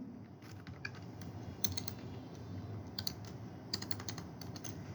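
Quiet, close typing on a computer keyboard: a quick, uneven run of light key clicks, some in short bursts, over a faint background hum.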